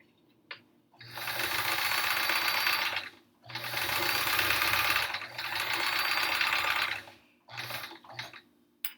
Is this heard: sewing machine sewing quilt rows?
yes